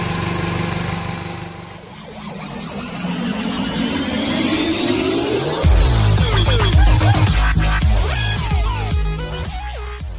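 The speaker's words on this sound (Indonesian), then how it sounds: "Masih cukup halus ini suara mesinnya." The engine of an old Toyota Great Corolla runs during an oil flush, first with a smooth, fairly loud hum whose tone shifts and rises, then settling into a fuller, rumbling steady run.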